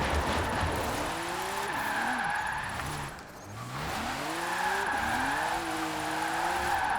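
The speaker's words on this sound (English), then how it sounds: "I'll try and drift vaguely competently." A Formula Drift Nissan 370Z drifts in the Forza Horizon racing game, its engine revving and wailing in rising and falling sweeps while the tires squeal steadily. A short dip comes midway before the engine surges again.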